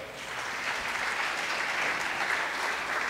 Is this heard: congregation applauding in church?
yes